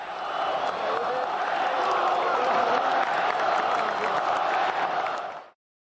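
A large stadium crowd at Maracanã roars and applauds Vasco da Gama idol Roberto Dinamite, a steady, distant wash of cheering and clapping that holds evenly before cutting off abruptly.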